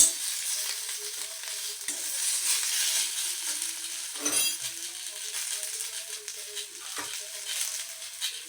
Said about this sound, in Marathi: आता आपण इथे कांदे टमाटे मिरची आणि लसूण यांना फ्राय करून घेऊया